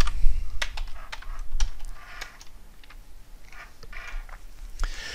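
Someone types a username and password on a computer keyboard at close range, with quick, irregular clicking keystrokes and short pauses and no voices.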